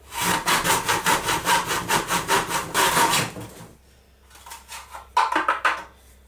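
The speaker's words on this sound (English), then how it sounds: "So I am cutting it a little bit longer than I need." A saw cuts through wood for a small terrarium stand in quick, rhythmic back-and-forth strokes, pausing briefly before a final short burst of strokes, close and clear without speech.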